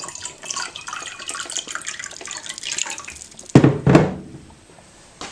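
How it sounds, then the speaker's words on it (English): Tap water runs through a Brita filter, a steady hissing trickle that ends in a couple of louder splashing gushes and then fades to quiet. "So I at least run it through a Brita filter."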